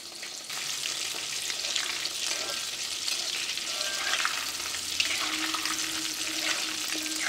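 Popcorn chicken deep-frying in hot oil, a loud, steady, close crackling sizzle with fine popping bursts running throughout, no voices.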